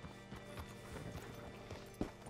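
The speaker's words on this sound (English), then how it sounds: "Hitch your horse up here." Horse hooves clip-clop at a steady walking rhythm on the ground in Red Dead Redemption 2, close and fairly quiet, with a faint game soundscape behind them.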